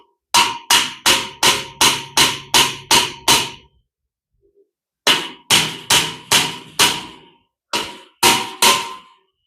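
Close, loud hammering while fitting shelves in a unit, two bursts of rapid even strikes with a short pause between, then a final cluster of blows, each with a sharp metallic ring.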